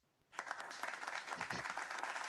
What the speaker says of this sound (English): the people applaud with vigor